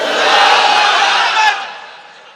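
A large crowd at a Bangladeshi Islamic sermon gathering roars back in response to a takbir call, a broad, loud collective shout that holds steady for about a second and a half before tapering off.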